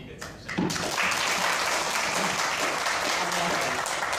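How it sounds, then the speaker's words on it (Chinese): An audience of teachers at a four-day education workshop in Kaohsiung breaks into sustained, dense applause that rises quickly after a brief spoken moment and continues evenly, loud and close. "那大家给这些老师一个掌声"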